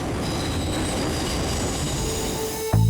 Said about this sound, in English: The train is driving itself, modern technology.